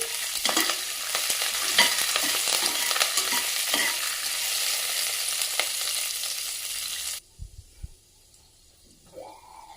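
Curry leaves frying and being stirred into a masala muri puffed-rice mixture: a loud, continuous close sizzle with scraping stirs for about seven seconds, then it cuts to near silence with a few faint knocks.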